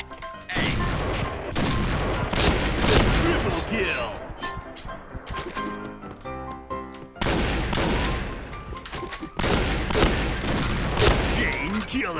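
Rapid bursts of gunfire ring out in the shooter game Point Blank, loud and close, with brief pauses between volleys. Someone talks excitedly over the shooting.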